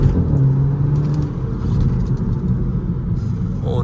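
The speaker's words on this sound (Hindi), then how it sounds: "गाइस गाड़ी को थोड़ा सा पुल करके देखते हैं" A Skoda Octavia accelerates hard, its engine rumbling loudly and roaring steadily up close, with road noise throughout.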